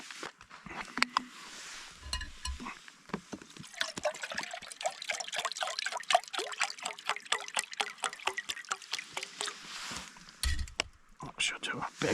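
Water trickling and pouring into a pot for boiling pasta at an outdoor camp in the Dales at night, a steady liquid dribble with scattered clinks and bumps, fairly close, with faint speech in places.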